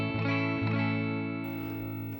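An electric guitar on the bridge pickup rings out through a Fender 65 Reverb amp as a clean tone with no reverb, a strummed chord sustaining and slowly decaying after a couple of quick picked attacks.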